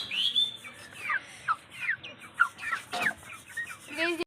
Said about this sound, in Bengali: এই যে এটা আমার মোরগ